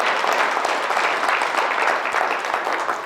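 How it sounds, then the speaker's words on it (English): Audience applause at a live motivational hypnosis event held for a realty company, steady dense clapping from a crowd filling the whole stretch without a break. "Big round of applause for the founders of Big Block Realty."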